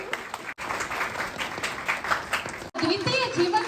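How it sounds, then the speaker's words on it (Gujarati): Audience applause at a drug-free awareness event in Diu welcoming the flag-off of a campaign chariot, steady clapping filling the space before a brief break, then more mixed crowd noise with some voices. "આપણે સૌ તાળીઓથી વધાવી દઈશું"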